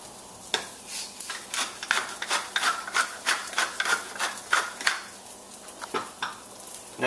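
Seasoned vegetables sizzle in a pan while being tossed, making a rhythmic series of scraping, shuffling stirs over a light frying hiss, close and moderately loud.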